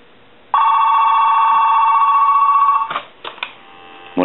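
A Trimline telephone rings with one steady electronic warble lasting a couple of seconds, then stops, leaving a few clicks and handling sounds, close with no talk.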